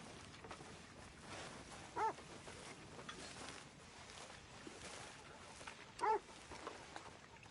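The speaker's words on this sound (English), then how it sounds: "Arthur, a dog." A dog gives two short, faint barks or yips several seconds apart against a quiet background, with no talk.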